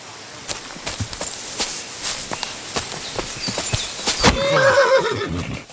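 A horse in Kingdom Come Deliverance II whinnies and snorts over a steady clip-clop of hooves at walking pace, with a louder, drawn-out neigh near the end, fairly close and heard alone.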